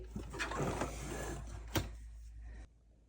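A sewing machine running close by while stitching a fabric bowl cozy, a busy mechanical whir with a sharp clack midway, then stopping abruptly into near silence.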